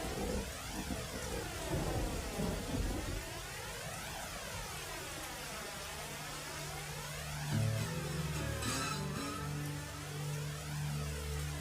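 Rain and thunder from an anime episode, a steady hiss of rainfall with low thunder rolling beneath, faint and distant in the background.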